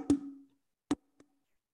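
Wooden emu caller struck with a double hit to imitate a male emu: a resonant hollow knock with a short low ring, a second sharp knock, then a faint tap, heard alone in quiet.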